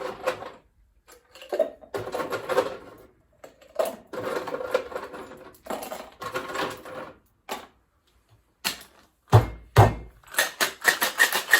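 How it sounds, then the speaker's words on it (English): A whiskey sour is dry-shaken without ice, giving bursts of rattling, sloshing strokes close by, separated by short pauses, with a few sharp knocks and faster, harder shaking near the end. "I'm doing a dry shake to emulsify. So, I'm frothing everything up."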